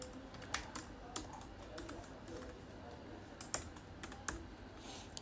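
Rapid, uneven clicks of fingers typing on a computer keyboard, close and fairly quiet, with scattered sharper key strikes throughout.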